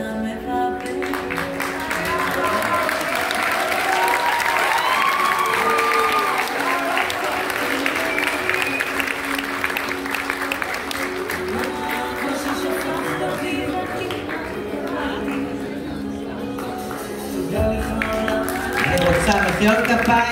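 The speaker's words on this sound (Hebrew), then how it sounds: "מחיאות כפיים מגיע לה" An audience at a school graduation ceremony in Ashdod bursts into loud, sustained applause, dense clapping filling the room with crowd murmur and voices mixed in throughout.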